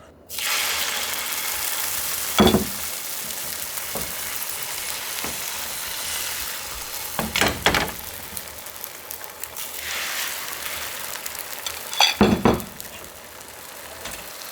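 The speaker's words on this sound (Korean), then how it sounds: "잘 굴리면서 계란말이는 천천히 해야 돼요" A seaweed egg roll sizzles steadily in a pan over very low heat, with a constant crackling hiss broken by a few brief clattering bursts of the pan being handled.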